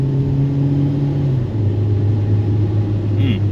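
A Ford Focus driving after a transmission mount replacement, its engine giving a steady, smooth low hum with a slight change in pitch midway, heard from inside the car and continuous throughout.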